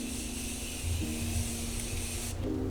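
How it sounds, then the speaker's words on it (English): Morphe Continuous Setting Mist sprays in one steady, close, continuous hiss over a face during a makeup routine, cutting off near the end. "I'm gonna go in with my Morphe Continuous Setting Mist. I love this to spray in between like this and powder."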